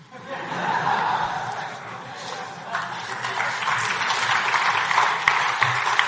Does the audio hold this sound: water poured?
no